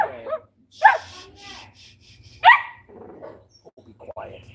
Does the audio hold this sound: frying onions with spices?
no